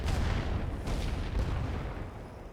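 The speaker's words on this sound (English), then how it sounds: "Tir de barrage sur cette position." Artillery barrage fire from The Great War: Western Front at the Battle of Cantigny: a dense, continuous low rumble of distant guns, with a few heavier thuds standing out over 2.6 seconds.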